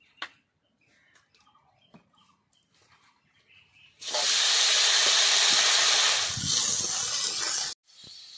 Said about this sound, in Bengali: কড়াইয়ে আর একটু তেল দিয়ে ঝিঙেগুলো ভেজে নেব।